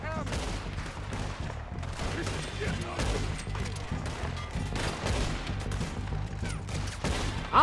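Gunshots in the video game Red Dead Redemption 2, played on Xbox One S: a run of repeated sharp reports and volleys at irregular intervals, layered over a steady low backing, with some talk underneath.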